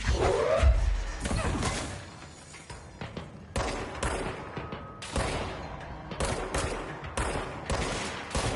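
Gunfire in a video game, a rapid series of sharp, punchy shots in short bursts, moderately loud, following a brief whooshing swell at the start.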